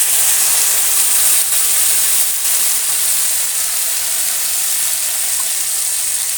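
Ground white mustard paste hits hot oil in a pan of small fish and hinche greens, setting off a loud, steady, high-pitched sizzle and hiss that carries on unbroken with no voices.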